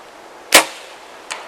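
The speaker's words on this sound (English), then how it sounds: "At the shot, we both heard the crack of an arrow hitting wood." An arrow strikes wood during a bowhunt, the shot taken at about fifty yards. It lands as one sharp, loud crack in quiet surroundings, followed about a second later by a softer, shorter tick.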